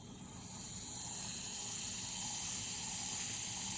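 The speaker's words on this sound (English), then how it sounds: "And if we're really quiet, can you hear the fizzing?" A steady, soft fizzing hiss of an effervescent tablet dissolving in water, constant and close, building slightly at the start and then holding level.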